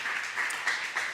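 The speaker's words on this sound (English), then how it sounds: "can we get a round of applause for all the storytellers that have gone so far?" A story slam audience in Madison applauds the storytellers in a brief, lively burst of clapping with some cheering mixed in.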